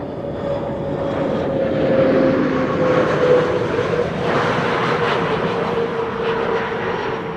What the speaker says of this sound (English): I'm hearing GE90 is being started.